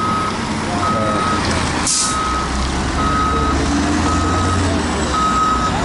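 Ore trucks reversing and loading at a gold mine in Copper Canyon, Mexico, with a loud steady engine rumble under evenly spaced reversing beeps and a brief air-brake hiss; a voice is faintly heard in the background.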